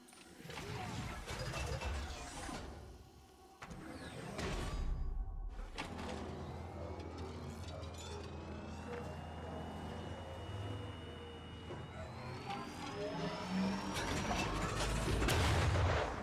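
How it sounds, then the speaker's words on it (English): Heavy machinery of a cargo launcher in Metroid Prime 4: Beyond: clanks and a sliding, door-like slam, then a sustained mechanical hum with rising whines and rumbling that swells louder toward the end. "Let me step into this cargo launcher."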